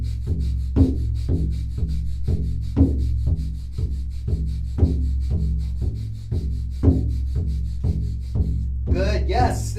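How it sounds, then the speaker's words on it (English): During a Kundalini Yoga class, someone in a plank position with feet raised does breath of fire, a rapid, even series of about two forceful nasal exhalations per second heard up close against a steady background hum. "and continue breath of fire."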